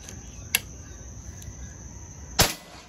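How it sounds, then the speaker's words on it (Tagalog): A spring-piston air rifle fires in an outdoor speed and grouping test, a sharp single crack near the end after a fainter click, over steady insect-like hiss. "Tindi ah, lakas ng airgun na ito."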